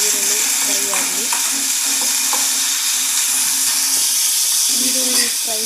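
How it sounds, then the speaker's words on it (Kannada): Onions fry in a pan with a bright, steady sizzle and hiss, joined by occasional stirring scrapes, close and loud throughout. "ಆಮೇಲೆ ಈರುಳ್ಳಿ ಫ್ರೈ ಆಗಲಿ."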